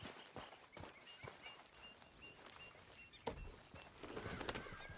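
A horse in Red Dead Redemption 2 walks at an even pace, its hooves clip-clopping softly over outdoor game ambience, with faint birdsong around it.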